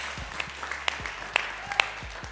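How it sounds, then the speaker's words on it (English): Applause from an event audience, a steady patter of claps with a few sharper single claps standing out, moderately faint and heard alone without talk. "So another round of applause for our OG."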